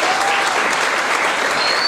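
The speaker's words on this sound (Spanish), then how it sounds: "el aplauso para las señas" Loud, dense applause at a 2019 graduation, a continuous burst of many hands clapping close by, with no voices over it.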